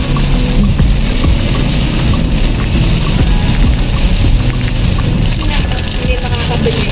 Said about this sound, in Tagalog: Nabot na tayo ng ulan.